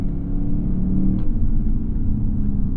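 A 2016 Lexus GS F engine pulls steadily toward redline, its rising drone heard from inside the car, loud and continuous with no talk over it.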